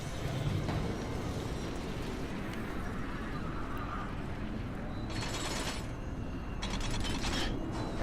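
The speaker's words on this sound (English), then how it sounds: "And now we ride with our energy source back down this elevator." A grinding elevator mechanism in the video game Darksiders, a loud, continuous mechanical rumble with gear-like rattling that holds steady throughout.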